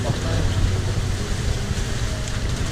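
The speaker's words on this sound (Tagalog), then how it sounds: "Magandang umuulan talaga." Rain falling during a typhoon flood, a dense steady hiss with low rumbling wind noise close to the microphone, while people talk underneath.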